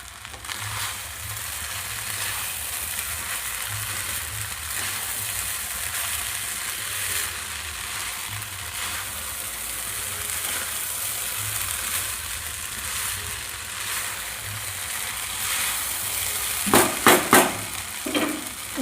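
Chilli chicken mixture with milk powder and ghee being stirred in a frying pan, a steady close sizzle throughout with a few sharper scraping clatters near the end.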